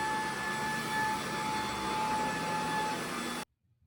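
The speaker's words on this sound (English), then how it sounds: "Here you can see the Bissell cleaning up coffee grounds on carpet on the max setting." Bissell PowerClean corded stick vacuum running on max setting over carpet, picking up coffee grounds: a steady, loud motor whine with a high tonal hum lasting about three and a half seconds before cutting off abruptly.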